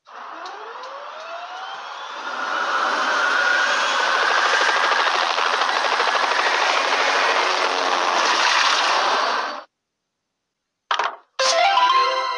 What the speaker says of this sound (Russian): Пожарный вертолет.